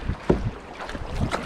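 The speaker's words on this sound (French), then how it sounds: "les types mettent des coups de pagaie comme si leur vie en dépendait" Canoe paddles splash and pull through the water in uneven strokes during the final sprint of a 153 km canoe race, with some wind buffeting the microphone.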